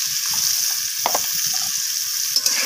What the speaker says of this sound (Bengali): তো লবণ আর হলুদটাকে আলুর সাথে মিশিয়ে নিয়ে আমি আলুটাকে লালচে করে ভেজে নেব